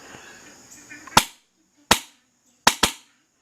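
Four sharp airsoft shots from an HPA-powered Wolverine Inferno airsoft gun, loud and close, with a short gap between the first ones and the last two fired in quick succession, over faint background noise.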